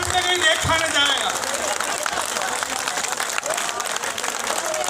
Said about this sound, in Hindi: हर आदमी ताली बजाए